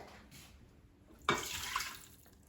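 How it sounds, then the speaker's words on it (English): A faint splash followed by a short pour of water into an Instant Pot, quiet and brief against a low background hum. "I'm going to add 1 cup of water."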